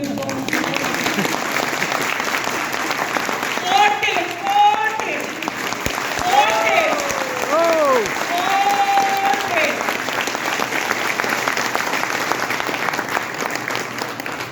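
Audience applause at a talk on Web3 and crypto, a long, steady wash of clapping from a seated crowd, with scattered voices and cheers rising over it.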